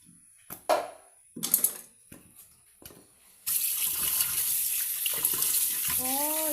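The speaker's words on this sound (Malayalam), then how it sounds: "മൊത്തം വാഷ് ചെയ്യാം." Vegetables for a salad, onion, green chilli and cucumber, handled at a kitchen sink: a few knocks and clatters, then a steady gush of running tap water, close, with brief voice near the end.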